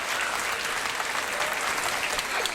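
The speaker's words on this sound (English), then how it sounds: "Everyone applauded at the conclusion of the ceremony" Crowd applauding at the end of a medal ceremony, a dense, even patter of many hands clapping at once that holds steady throughout with no voices.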